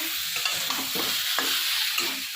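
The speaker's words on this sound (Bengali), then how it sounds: "আলু পটলের তরকারিটা বসিয়েছি" Potato and pointed gourd curry cooks in a pan with a loud, constant sizzle up close, and spoon scrapes of stirring recur throughout.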